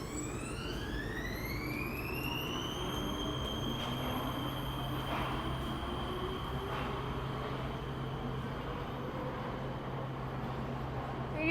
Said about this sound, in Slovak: Vlak práve odchádza zo stanice, vidíte, a ide smer IP Pavlova